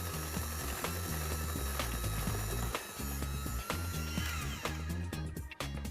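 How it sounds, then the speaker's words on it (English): An electric hand mixer beats brownie batter of oil and other ingredients in a kitchen, a steady close mechanical whir with rattling, chattering beaters running continuously and alone. "Now you want to hit this with the mixer so you combine everything all together."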